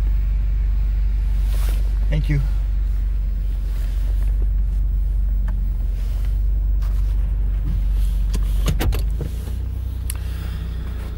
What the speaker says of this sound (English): cold start of the 1989 Buick Reatta